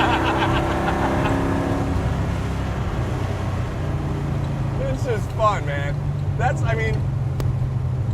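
A Camaro-based car's engine drones steadily at close range while driving, with a strong low rumble and rising harmonic tones early on; a person talks over it toward the end.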